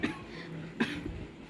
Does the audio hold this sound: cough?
yes